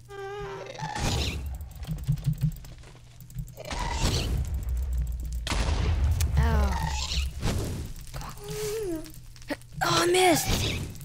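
Ghast fireballs in Minecraft, with whooshes, booms and thuds scattered across the game's sound. A player talks over them.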